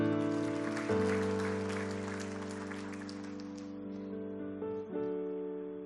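A church congregation claps over sustained keyboard chords that carry through the whole passage, the applause thinning out toward the end.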